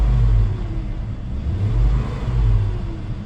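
A 2003 GMC Envoy with the 4.2 engine revs up and down in repeated swells, a close, low rumbling idle rising to throatier bursts of throttle, with no talk over it.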